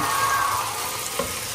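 Adobo sizzles and crackles steadily in a hot pan, a dense, continuous frying hiss with a small clink near the end.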